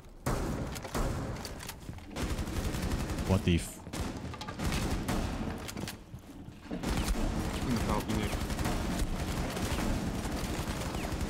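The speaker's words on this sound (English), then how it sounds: "How did I miss all of those shots?" Rapid gunfire bursts from the tactical shooter game Rainbow Six Siege, loud and sustained through most of the stretch with brief lulls, while a player speaks briefly over it.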